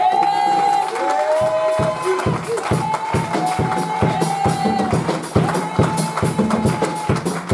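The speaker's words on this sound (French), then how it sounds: "Je crois bien que c'est moi que vous avez acclamé." A church congregation cheers and acclaims loudly throughout, a dense crowd roar with shouts, whoops and rhythmic claps, close and sustained with no pauses.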